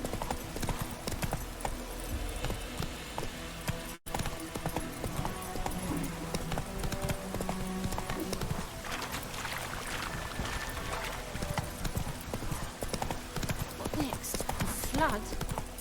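Roach the horse gallops in The Witcher 3, hooves clip-clopping in a fast continuous rhythm over game ambience, with a brief neigh and some voices in the background.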